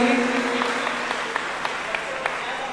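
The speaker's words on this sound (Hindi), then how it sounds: "जोरदार ताली से अनुमोदन करें।" An audience claps loudly at a religious discourse gathering, a dense burst of applause filling the whole moment with a few sharper individual claps standing out.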